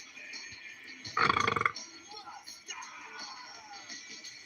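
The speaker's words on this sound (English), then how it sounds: "A respectable burp." A single loud, throaty burp, short and close, rising out of quiet room noise and fading quickly.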